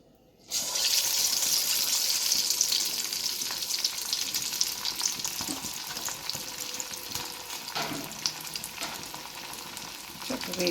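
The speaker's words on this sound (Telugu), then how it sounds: "వేసేసుకొని బాగా డీప్ ఫ్రై చేసేసుకోవడమే." Chicken joint pieces dropped into hot oil for deep frying, the sizzle bursting in suddenly after a brief silence and then bubbling loudly and steadily, with a few clatters.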